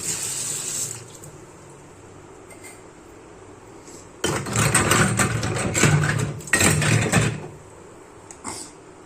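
Running tap water splashes over pooja vessels being washed, a quiet trickle at first, then two loud bursts of gushing water with clinking metal, trailing off to a soft drip and a brief clatter.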